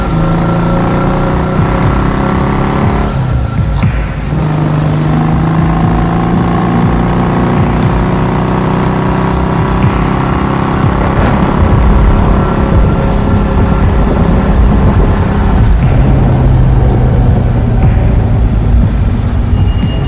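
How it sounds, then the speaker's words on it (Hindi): A motorbike engine runs steadily throughout a ride toward an old mansion on a stormy night. The loud, continuous hum shifts slightly in pitch now and then, with no voices over it. "बाबा ने अपनी बाइक निकाल ली और फिर तीनों शॉन को बचाने के लिए पुरानी हवेली की तरफ चल दिए"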